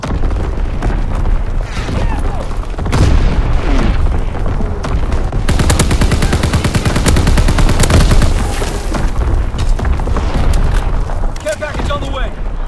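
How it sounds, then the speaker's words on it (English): Incoming enemy artillery in Call of Duty: WWII: loud, heavy blasts and rolling booms come one after another with rapid machine-gun fire, and game voices shout over the barrage. "Incoming enemy artillery!"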